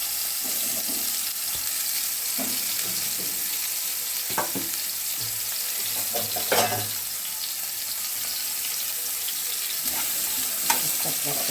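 Salted, turmeric-coated round slices of kankrol (spiny gourd) fry in hot oil with a steady, close hiss, punctuated by a few stirring scrapes and light clatters.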